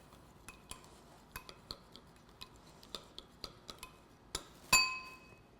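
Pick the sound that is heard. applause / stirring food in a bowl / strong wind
stirring food in a bowl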